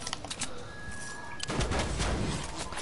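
Rapid bursts of automatic gunfire in a squad-based battle royale shooter game, crackling shots overlapping in quick volleys that grow louder and denser toward the end.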